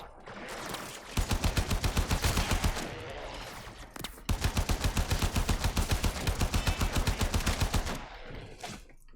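Rapid automatic fire from a primary weapon in the video game Warframe, two long sustained bursts of evenly spaced shots separated by a brief pause, loud and up front with no speech.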